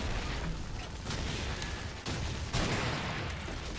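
RPD machine gun firing in the video game Call of Duty 4, a dense, continuous stream of rapid gunshots with a few short breaks, loud and close throughout.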